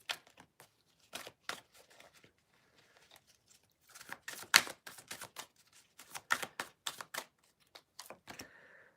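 Cards are shuffled and pulled during a card reading, giving quick, close papery riffles and snaps in uneven bursts with short pauses between them.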